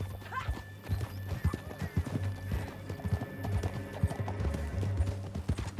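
Hooves of a horse in Red Dead Redemption 2 clop in an uneven stream with a short whinny early on, close and clear over a steady low hum.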